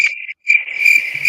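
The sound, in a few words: crickets chirping sound effect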